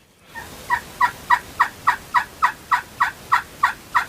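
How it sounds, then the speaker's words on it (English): Wild turkey gobbling down a ridge on an Iowa morning: a loud, close burst of about a dozen rapid, evenly spaced gobble pulses rolling together, with no talking. "Old turkey starts gobbling right down the ridge"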